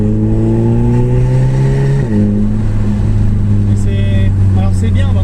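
Audi Quattro with a stage 1 tune making 230 hp pulls hard in the cabin, a steady loud engine drone climbing in pitch, dipping briefly at a gear change around two seconds, then rising again while people talk over it.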